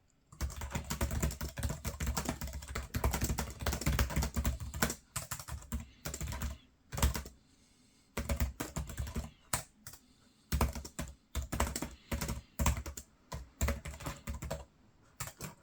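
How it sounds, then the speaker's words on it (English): Rapid typing on a ThinkPad laptop keyboard, close and clear, with dense bursts of clicky keystrokes broken by a few short pauses, no voices. "Would this noise be annoying though if you're in a cafe typing away?"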